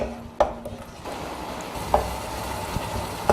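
Tomato and spice masala being stirred in a pan for bitter gourd sambar, a soft steady sizzle with a few sharp spoon scrapes against the metal at intervals.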